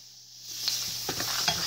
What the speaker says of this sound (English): Stir it up like that. See that roux?